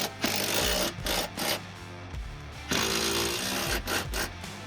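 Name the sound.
tightening subframe bolts on a Ford Focus ST170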